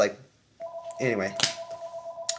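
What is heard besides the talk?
phone ringing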